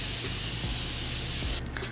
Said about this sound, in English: Got my Morphe spray.